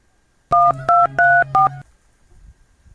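Four quick electronic keypad tones of a telephone number being dialed, each a steady dual beep in an uneven rhythm, close and loud, followed by near silence.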